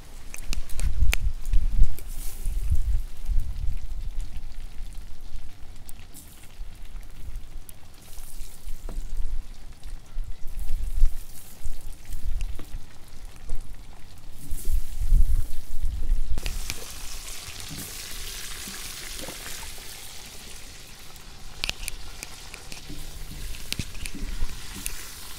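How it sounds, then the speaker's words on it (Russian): Steady crackling sizzle of potatoes frying in oil in a kazan cauldron, continuous and close, with occasional clinks and a brighter hiss later. "Картошку также будем жарить до румяной корочки."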